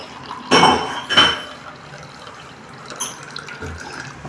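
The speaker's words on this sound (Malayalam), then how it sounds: "അപ്പോൾ നമ്മളിതൊരു ഗ്ലാസ്സിലേക്ക് ഒഴിക്കുകയാണ് കേട്ടോ" Honey lemon tea is poured into a glass in two short, close splashing bursts, followed by faint kitchen clinks and quiet background noise.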